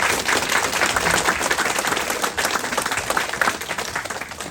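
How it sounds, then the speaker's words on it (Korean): Congregation applauding at a Christmas church service: dense, steady clapping from a large crowd fills the whole stretch at even loudness, with no speech over it. "이 모든 것을 준비해 주신 하나님께 영광의 박수 올려드리겠습니다"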